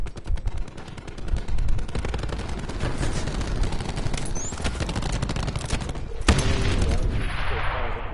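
Rapid automatic gunfire in a video game, loud and sustained bursts with a few heavier shots, dense and continuous across the whole stretch with game sounds behind.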